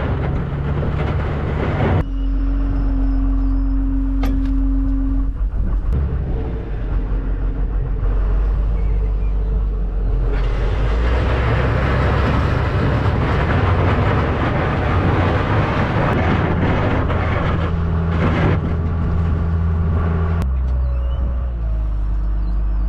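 A farm vehicle rumbles past pulling an old distillers grain wagon, with a low engine drone that swells in the middle as it nears, plus rattling and clanking from the wagon and an occasional sustained tone.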